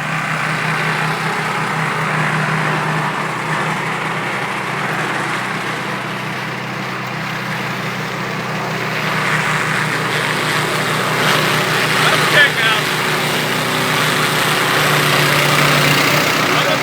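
An Orec tracked flail mower runs nearby with a steady, loud engine drone and rumble that rises slightly partway through, continuous with no clear speech.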